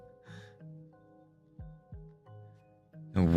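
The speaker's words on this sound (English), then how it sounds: "It just sounded like a bunch of like wind chimes." Wind chimes ring loudly in a series of sustained metallic tones, struck repeatedly with overlapping resonant notes, ending in a louder burst of clanging.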